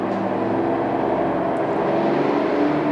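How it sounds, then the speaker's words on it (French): A helicopter passes overhead as a steady, broad rumbling drone that holds even and fairly loud throughout, with no speech. "il y a un hélicoptère qui passe"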